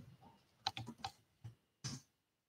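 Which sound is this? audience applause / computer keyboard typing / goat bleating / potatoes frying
computer keyboard typing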